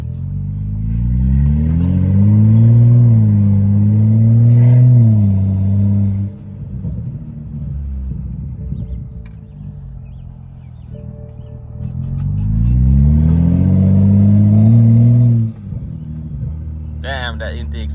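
A Mercedes-AMG GT with a large carbon fiber wing roars through two strong, rising intake and engine pulls. Each rev swell is loud and close, separated by quieter idling stretches, with a brief voice near the end.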